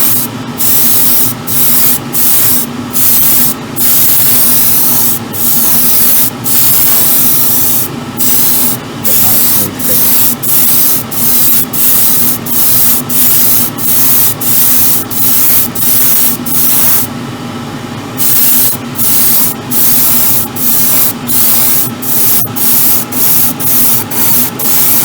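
Airbrush spraying paint onto the bodywork of an Alpha Model Ferrari 812 Superfast model car, a steady close hiss broken by frequent short pauses as the trigger is released and pressed again.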